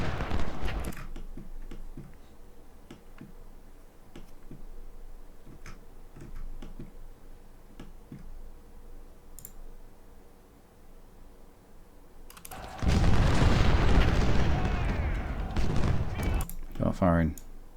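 Ragged musket volleys from a Civil War battle at Laurel Hill in Ultimate General: Civil War: a dense, loud burst of overlapping shots from about 13 seconds, after a long stretch of faint scattered pops and ticks under quiet talk.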